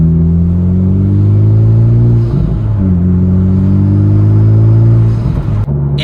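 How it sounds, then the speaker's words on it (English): A 2021 Honda Civic Type R with a Phearable Stage 2 tune pulls hard in second gear, its loud, close engine drone climbing steadily in pitch with a brief dip partway through. "Okay, we need to get some second gear action"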